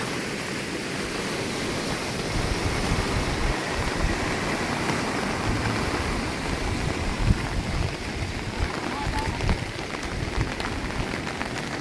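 A steady, dense roar of rushing water, broad and continuous like a swollen river in flood, with no voices.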